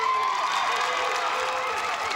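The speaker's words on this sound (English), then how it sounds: "And a smiling Rico gets a hand from a happy crowd." A happy studio crowd at a televised gladiator competition claps and cheers steadily, a broad wash of applause with shouts and whoops, fairly distant and continuous.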